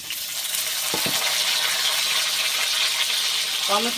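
Chopped onion and a small cut tomato hitting hot oil in a pan, a steady bright sizzle and frying hiss throughout, with a few brief clinks of a spoon or utensil against the pan near the start and end.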